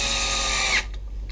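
A power drill whines loudly at full speed while boring into a block holding an e-bike's side panel, then cuts off abruptly into quiet mechanical rattling.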